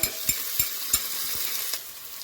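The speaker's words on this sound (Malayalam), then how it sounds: "എല്ലാം നല്ലപോലെ മൂപ്പിച്ചെടുക്കണം" Garlic and small shallots fry in oil in a pan, giving a steady, close sizzle broken by a few sharp stirring knocks of a utensil against the pan.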